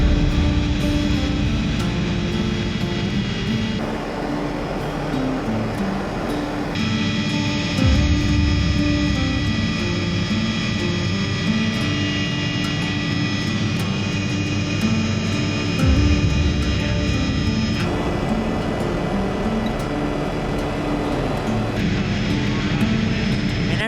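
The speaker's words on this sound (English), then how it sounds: "at least we're going to get to see where they live from the helicopter" A helicopter flies over New Zealand mountains with a loud, constant turbine drone and rotor roar heard from inside the cabin. The pitch shifts slightly a few times, and no one speaks.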